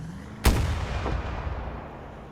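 A rocket fires in Battlefield 2042 with one sharp, loud blast that trails off into a rumbling decay, followed by a fainter secondary thump and lingering battlefield noise.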